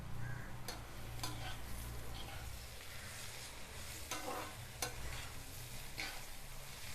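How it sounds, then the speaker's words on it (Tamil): Onions and tomatoes sauté in oil in a kadai for paneer butter masala. A steady sizzle runs throughout, broken by several sharp scrapes and clinks of a stirring spoon against the pan. No voices can be heard. "வெங்காயமும் தக்காளியும் நல்லா வதக்கணும்"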